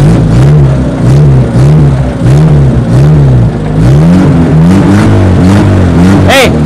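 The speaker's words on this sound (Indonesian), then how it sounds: "suaranya kayak mobil Toretto ya, kayak mobil Toretto sing American Muscle sing iso jumping-jumping lho." A 1975 Toyota Corolla KE30 with its 3K engine revs repeatedly, loud and close, with rhythmic rising and falling pulls and a steady idle rumble in between.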